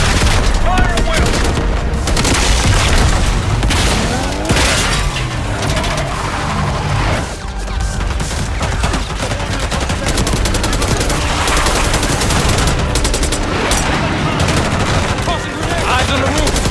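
Dense, sustained gunfire in the Call of Duty Black Ops 6 campaign: overlapping rifle bursts and heavy cracks rattle continuously at close range, with explosions and battlefield clutter mixed in and voices faintly under the din.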